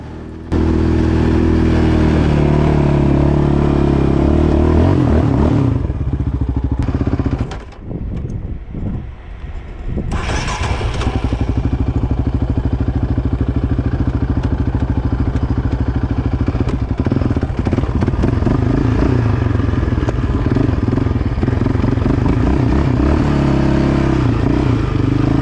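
A Street Speed 717 motorcycle revs hard as the clutch is dumped, a loud, sustained engine roar that cuts out briefly midway, then surges back and keeps pulling steadily to the end.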